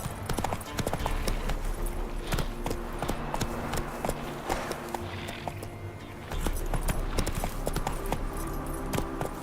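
In Witcher 3, the horse Roach gallops with rapid, sharp hoofbeats close by, the rhythm briefly easing near the middle before picking up again, with a voice calling out faintly now and then.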